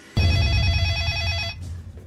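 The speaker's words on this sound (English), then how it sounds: "The cell phone rings." A cell phone rings with a bright electronic warbling tone that holds steady for about a second and a half and then stops, loud and close, with no talk over it.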